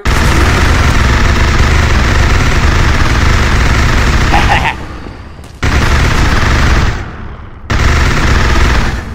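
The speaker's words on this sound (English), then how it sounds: "Why are you shooting me?" Sustained rapid gunfire in a zombie-themed shooter video game fills nearly the whole stretch, loud and dense, cutting out in two brief gaps before resuming.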